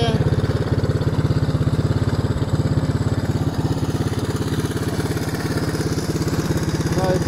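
An old trike engine with a rusty tank idles without a battery, putting along in a steady, fast, even rhythm, loud and close, with no voices.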